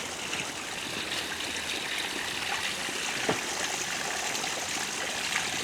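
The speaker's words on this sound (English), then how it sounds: "There's water hanging down the rock face there." Water trickles and runs down a mossy rock face in a shaded ditch, a steady, continuous splashing stream sound at moderate level with no talking.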